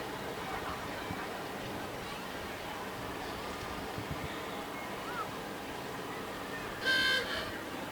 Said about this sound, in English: Love those klaxon horns.